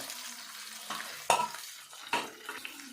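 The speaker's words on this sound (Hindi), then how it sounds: "ये थोड़े से भुन गए हैं प्याज, अब हम टमाटो डालते हैं इसमें।" Onions and tomatoes fry softly in a pan for macaroni while a spoon stirs them, giving quiet sizzling with a few sharp scrapes and clinks against the pan. The sounds are close and faint, with no talking.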